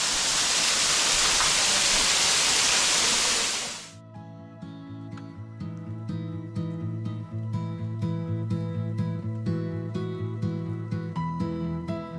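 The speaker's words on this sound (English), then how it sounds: "This entire waterfall just falls into a sink." A loud, steady roar of Bethel Springs Falls in Paint Rock fills the first few seconds, then cuts to a plucked melodic tune playing on its own.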